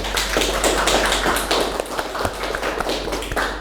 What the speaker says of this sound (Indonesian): tepuk tangan untuk Mas Sadang ya